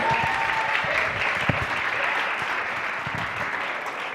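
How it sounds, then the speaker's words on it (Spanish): Sustained audience applause at a church special service welcoming a guest pastor, a steady wash of many hands clapping at moderate distance throughout, with no speech over it. "Les pido un fuerte aplauso"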